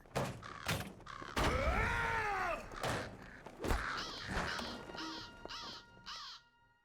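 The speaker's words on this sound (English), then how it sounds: "Furious squawking signals the arrival of feathery spies." Crows caw repeatedly in Lord of the Rings Online, loud and close at first with harsh overlapping squawks, then a run of shorter, fainter caws, punctuated by a few sharp thuds.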